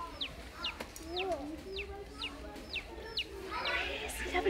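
Baby chicks peep in a rapid series of short, high, downward-sliding chirps, fairly close, with soft background noise and brief voices.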